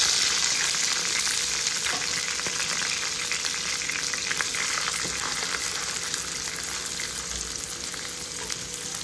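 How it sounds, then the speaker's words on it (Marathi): Curry leaves and chopped onion crackle in hot oil at the start of a Marathi moong bhaji, a continuous, close, rain-like sizzle holding steady throughout with faint stirring scrapes and no voices. "इथे कढीपत्ता टाकलेला आहे इथे कांदा टाकलेला आहे"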